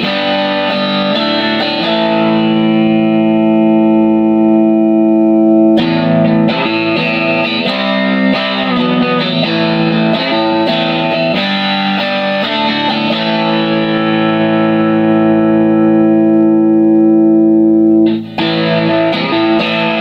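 Electric guitar played loud through a cranked Professor Tweed amp with mods, heavily distorted with sustained chords and riffs, continuous for the whole stretch with a brief pause near the end.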